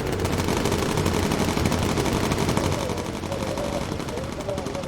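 Bomber gunners fire machine guns in the game Bomber Crew, a dense continuous rattle of rapid gunfire filling the whole stretch with steady loudness, with a voice talking faintly underneath.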